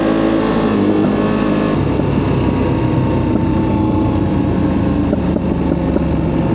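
Ducati Panigale V2 twin-cylinder sport motorcycle on a road ride, its engine a steady loud drone under heavy wind rush, with a brief shift in pitch near the start and no talking.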